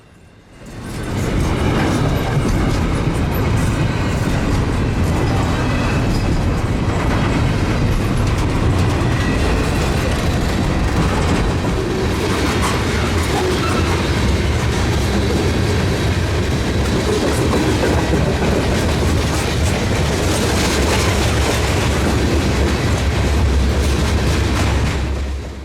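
A long freight train rolls past on the CPKC Meridian Speedway, close and loud, with a steady rumble and rhythmic clickety-clack of wheels over rail joints running throughout, a KCS locomotive pushing at the rear.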